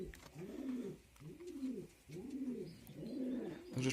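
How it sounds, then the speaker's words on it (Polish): Homing and fancy pigeons coo in a breeding loft in repeated low, rolling phrases, four in a row with short gaps, close by, with faint background noise and no talking. "42 gołębie."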